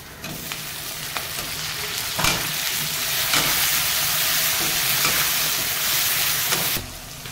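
Onions, tomatoes and salt frying in a pan, a loud, continuous close sizzle with repeated scraping knocks of a spoon as the mixture is stirred.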